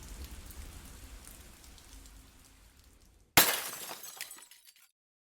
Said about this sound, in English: I'm completely taken off guard by the sudden sound of glass shattering into a million pieces